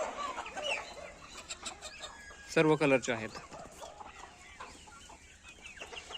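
Pure desi country chickens of mixed colours cluck on a farm, with scattered clucks and a louder burst in the middle while someone talks throughout.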